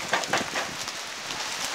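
Hail rattles down in a severe thunderstorm in Oakland, a dense, steady patter of close impacts with no voices.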